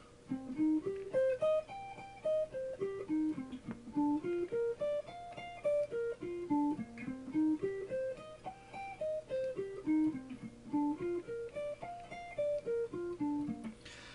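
Rapid sweep-picked guitar arpeggios sweep up and down in a steady repeating wave, each run of notes rising then falling, played clearly with no talking.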